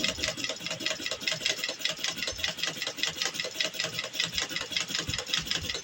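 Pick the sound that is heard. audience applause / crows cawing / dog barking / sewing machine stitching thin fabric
sewing machine stitching thin fabric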